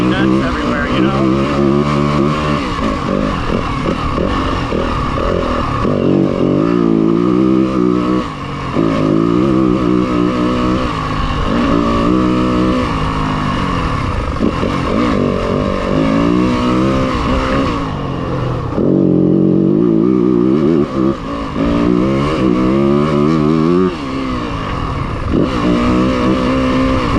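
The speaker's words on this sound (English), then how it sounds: "I'm rolling, using throttle control to not pop wheelies and not be nuts everywhere" 2026 Yamaha WR250F dirt bike engine buzzing and revving in uneven waves as the rider works the throttle through gears, loud and close throughout, with someone talking over it.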